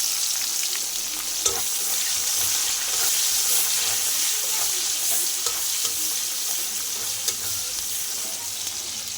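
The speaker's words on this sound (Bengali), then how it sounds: "মাংসটা কষানোর জন্য সব মশলা তেলের উপরে দিয়ে দিলাম" Spices frying in hot oil ahead of braising meat for biryani: a steady, dense sizzle with occasional stirring clicks and scrapes, continuous and fairly close, no talking.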